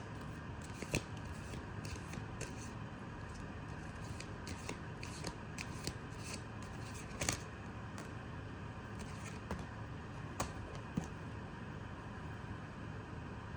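Tarot cards are shuffled and drawn in a continuous papery riffle and slide, with sharper flicks and snaps standing out now and then, heard close and fairly quiet with no talking.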